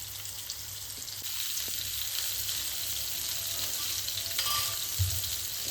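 Fish pieces frying in a pan of oil in a Kerala kitchen, a continuous close sizzle with a few soft stirring clinks, no speech.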